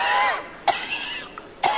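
Two short, sharp coughs from one person, evenly spaced and loud up close, following a moment of raspy breathy voice.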